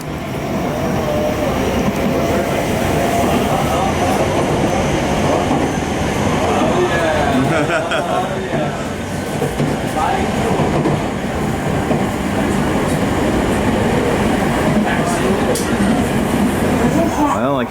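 A train in Japan rumbles past close by, a loud continuous roar with clattering wheels and metallic squeals, with voices faintly audible underneath.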